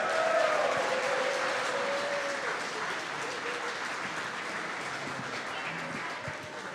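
Sustained audience applause for Packers defensive lineman Rashan Gary at a Clubhouse Live event, a steady dense wash of clapping that tapers slightly in level, with no clear talk over it.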